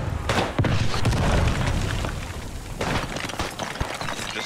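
Grenade blast in the Beyond The Wire World War I shooter on the Chateau-Thierry map: loud booming bursts amid continuous gunfire and battle noise, with a sharp heavy impact near the start and another around three seconds.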